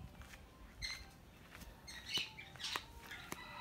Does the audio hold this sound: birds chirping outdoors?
yes